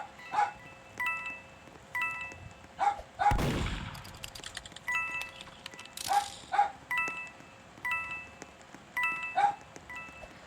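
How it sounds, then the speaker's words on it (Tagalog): A pet dog barks in short, sharp bursts at intervals in a quiet home, fairly faint and spread across the recording, alongside a few clinks and a brief sweeping noise. "Rinig nyo ba yung aso ko guys?"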